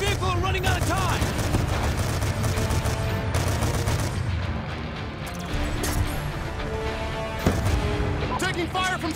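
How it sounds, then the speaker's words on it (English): Chaotic gunfire in Call of Duty Black Ops 2 during a convoy defence on a road under sniper fire from an overpass, with rapid shots, crashes and booms under loud shouted voices. "Taking fire from snipers on the overpass!"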